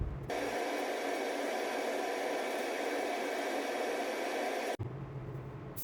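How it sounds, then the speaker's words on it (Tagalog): A spray gun lays a full coat of wet-on-wet surfacer primer onto a new car panel, giving a steady, loud airy hiss that runs continuously for about four and a half seconds, then cuts off abruptly. "Ito na yung ating wet on wet primer mga idol, ini-spray na natin."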